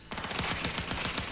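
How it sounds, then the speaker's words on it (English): Rapid automatic gunfire in the video game Cyberpunk 2077, a steady stream of fairly loud shots with no pauses, heard alone without voices. "Heard shots."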